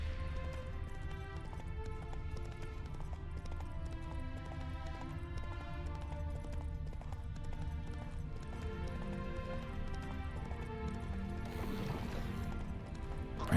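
Roach the horse gallops in The Witcher 3, a steady rapid clip-clop of hoofbeats running under a dense layer of game music, with no talk over it.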